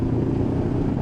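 Honda NX500 motorcycle in fourth gear with the throttle opening, a steady low engine drone heard briefly and close, with no talk.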